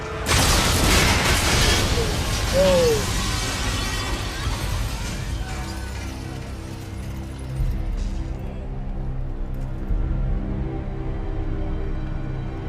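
A massive video game explosion destroying three floors of a building booms and crashes with debris and shattering, then a deep rumbling roar lingers and slowly fades, with loud low-end throughout.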